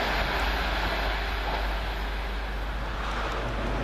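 A First TransPennine Express train rushes past at Heaton Chapel with a loud, steady broadband roar of wheels and wind, sustained and close throughout; no talk.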